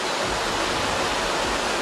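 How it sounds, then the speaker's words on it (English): A small stream above the A22 road in Italy, swollen into a raging flash-flood torrent after heavy rain, roars as a dense, steady rush of churning water with no breaks and no voices. "The small stream above the A22 road in Italy quickly turned into a raging torrent after just 10 minutes of heavy rain."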